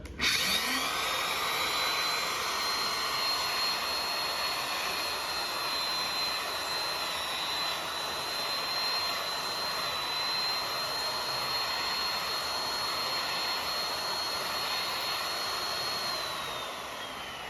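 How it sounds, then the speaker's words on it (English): Wood router planing down an epoxy-coated surface to level it close to the wood, a loud steady high-pitched whine holding for most of the span, then winding down near the end; no talk. "I'm going to start the router."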